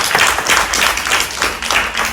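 Audience at a conference on breast and uterine cancer prevention clapping steadily, a dense, moderately loud patter of hands in an indoor hall with no voices over it.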